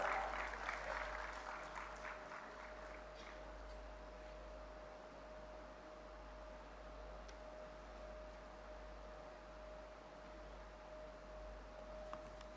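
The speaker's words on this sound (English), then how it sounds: "let's welcome him with a huge round of applause" An audience at a regional MSME conclave gives a round of applause welcoming a speaker. The clapping is thickest and most textured at the start, then settles into a steady, fairly quiet wash over a constant low hum.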